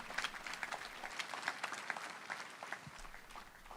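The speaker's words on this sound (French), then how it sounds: "Alléluia, applaudissons pour Jésus." A church congregation at a healing service applauds, a faint, distant patter of many hands clapping steadily for a few seconds.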